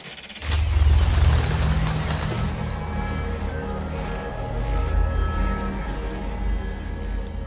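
Video game sound design for the mimir opening: a sudden low rumbling swell gives way to a sustained, eerie tonal bed with drifting high tones, heard alone without talk.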